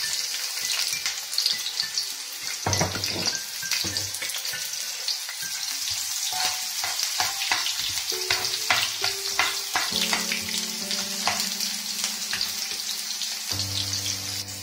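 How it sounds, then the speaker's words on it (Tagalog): Garlic and onion frying in hot olive oil for a pasta Bicol express, a steady loud sizzle with occasional utensil stirring clinks and no voices. "Medyo mainit na po yung olive oil. Lalagay na po natin ang bawang at sibuyas."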